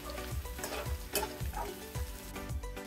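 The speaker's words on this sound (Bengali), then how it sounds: "এবার আলু আর পেঁয়াজ একসাথে আমি ভেজে নেব।" Potatoes and chopped onions fry together in oil for a Bengali rui fish curry with peas and tomato. A dense, close sizzle runs throughout, and soft rhythmic thumps of stirring recur about every half second.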